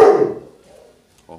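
A dog barking in the street, one loud close bark fading out, followed by a brief faint yip at the end.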